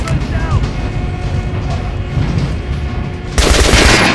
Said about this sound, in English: Now shoot the armored stuff.